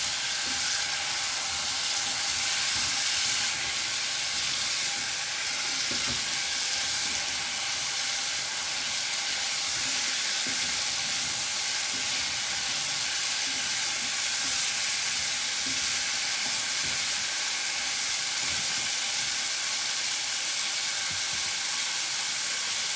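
Cauliflower and potato curry for a classic Indian saak fries in a pan over raised heat, a steady close sizzle with faint scraping from stirring running throughout, no talking.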